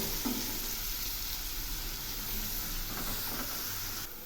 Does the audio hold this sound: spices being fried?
yes